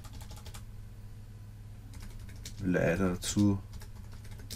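Someone types a short comment on a computer keyboard in close, quick bursts of soft key clicks, while a person talks over part of the typing.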